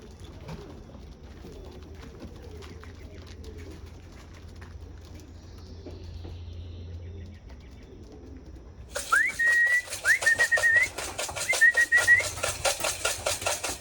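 Pigeons in a loft coo softly with low, murmuring calls, joined later by louder rustling, clattering and a thin whistle.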